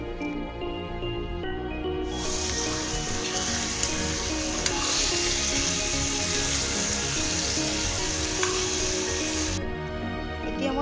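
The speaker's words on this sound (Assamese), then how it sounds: "মাংসখিনি মই ফাৰ্ষ্টত ভাজি লৈছো" Chicken pieces for an Assamese curry sizzling steadily in hot oil in a pan with bay leaves and dry and green chillies, a continuous close crackle with occasional stirring clicks.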